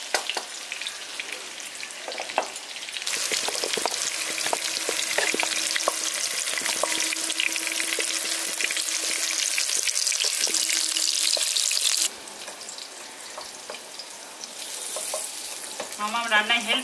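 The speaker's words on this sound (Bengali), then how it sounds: "এখানে কুমড়োগুলো ভাজা হয়ে গেছে" Pumpkin pieces sizzle steadily in hot oil in a home kitchen, a dense continuous crackle with occasional stirring clatter, close and moderately loud with no talking.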